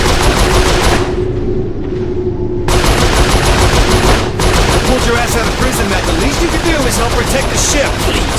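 Sustained bursts of turret machine gun fire in the Saints Row IV video game, loud and dense, with a brief pause and a short break, and voices talking over it.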